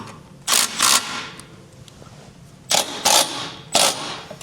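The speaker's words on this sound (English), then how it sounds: "we'll come through and snug down all of our hardware" A ratcheting wrench snugs down the mounting bolts of a Curt trailer hitch receiver on a 2026 Kia Carnival, giving five short, close clicking bursts in two clusters with quiet pauses between.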